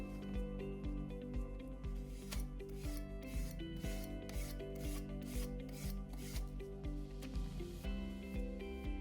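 A spatula drags raw pigment across an encaustic wax surface in a series of regular, close scraping strokes over a steady tonal background.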